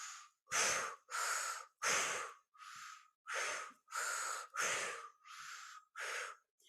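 Deep rhythmic breathing during a guided breathing exercise, about nine strong close breaths in a steady cycle, each a forceful rush of air separated by brief silences.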